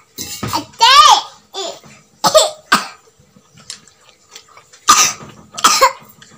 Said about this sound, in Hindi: खांसी हो गई है मेरे बच्चे को,